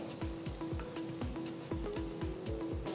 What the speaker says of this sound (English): the remaining paneer pieces, I'm just roasting it here, keeping the flame on medium